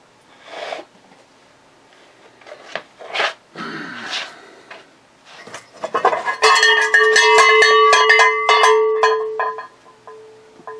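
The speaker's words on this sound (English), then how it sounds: "ring the bell like you mean it" A cowbell is rung hard and fast in a rapid, loud ringing burst that lasts a few seconds, after some scattered knocks and sniffing sounds.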